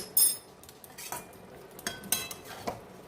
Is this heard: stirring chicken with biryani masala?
yes